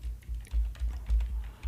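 Someone types on a computer keyboard, producing a close, quick series of clacking keystrokes in an uneven rhythm.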